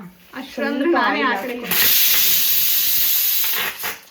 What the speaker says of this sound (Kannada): Cooker ಕೂಗ್ತೈತೆ, disturb ಮಾಡ್ತಾಯಿತ್ತು.